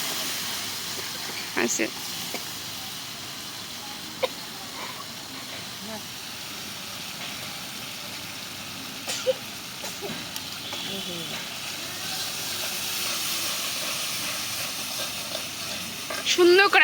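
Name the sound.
vegetables frying for khichuri in a pot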